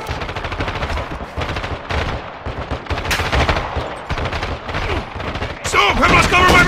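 Rapid, sustained machine gun fire in the video game Call of Duty: Modern Warfare 2. Loud, dense bursts crackle continuously, with overlapping shots and a few heavier impacts near the end.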